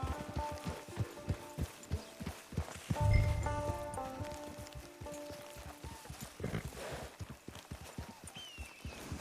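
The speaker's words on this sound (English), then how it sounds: "Get your horse." Horse hooves clip-clop at a steady walking pace on dirt in a western video game, with occasional rustling and a low thud partway through, under faint ambient music.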